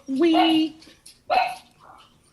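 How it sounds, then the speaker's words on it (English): A dog gives two sharp barks close by, the first drawn out and the second shorter, with a person speaking briefly around them. "that's my dog who just saw a bird"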